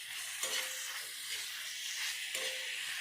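Tomatoes for Mumbai-style masala pav stirred and cooking in a pan, with a steady soft sizzling hiss and a couple of scraping strokes of the spoon, fairly quiet and close, with no talking.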